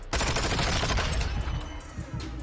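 Rapid automatic gunfire in Modern Warfare 2, a fast burst of close, sharp shots in quick rhythm that thins out toward the end.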